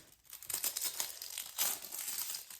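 Plastic wrap crinkling and tearing as a Pokémon elite trainer box is opened, a close, busy run of crackly rustles with a louder burst midway, no talking.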